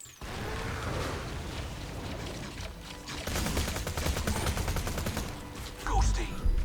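SMG gunfire in Borderlands 2, rapid rattling bursts of automatic shots in a busy game mix, with louder firing toward the end.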